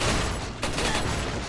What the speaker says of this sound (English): never hears any of Ada's gunfire.